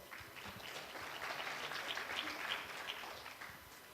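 Audience applause at an international student law colloquium, steady clapping for about four seconds at a fairly quiet, distant level, swelling slightly in the middle.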